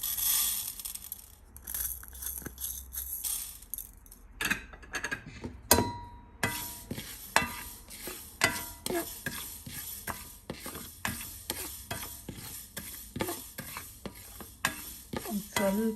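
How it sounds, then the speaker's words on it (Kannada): Mustard and fenugreek seeds dry roasting in a wide pan give a quiet rattle, with many crisp clicks and scrapes of stirring in an uneven rhythm. "ಸೊ ನಾವಿವಾಗ ಸಾಸಿವೆ ಆಮೇಲೆ ಮೆಂತ್ಯ ಎಲ್ಲ ಒಟ್ಟಿಗೆ ಸ್ವಲ್ಪ ಹುರ್ಕೊಬೋದು."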